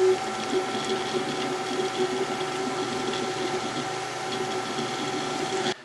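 A Creality Ender 5 S1 3D printer running at high speed gives a steady mechanical whir with tonal motor whine, continuous and close for several seconds, with no voices.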